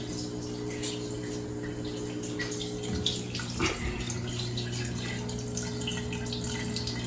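Water runs steadily while a PC water-cooling radiator is flushed during a custom i9-14900KS build, a continuous hiss over a constant pump hum, with a brief gurgle in the middle.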